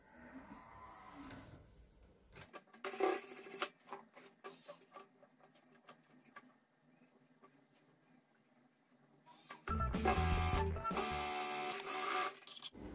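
A sewing machine stitches the front part of a blouse, with a brief burst of stitching early and a longer, louder run near the end, separated by quiet ticks and handling clicks.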